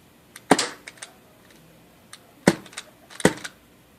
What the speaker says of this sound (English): So you can probably fire 3 mags of BBs, and it's a lot of BBs off of it, but just listen to it.